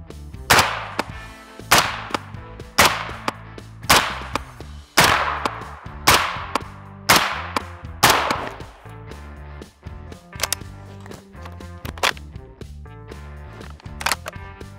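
A C93 rifle firing 5.56 rounds at a target board outdoors, about a dozen loud sharp cracks at an uneven, roughly steady pace, with the later shots spaced more sparsely.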